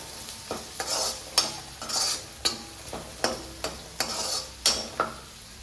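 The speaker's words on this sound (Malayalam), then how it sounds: "നന്നായി തന്നെ നമുക്കൊന്ന് വഴറ്റി കൊടുക്കാം." Shallots sautéing in a pan for a Kerala beef curry, soft sizzling frying under a regular rhythm of spoon scrapes and stirring strokes, close up and with no talking.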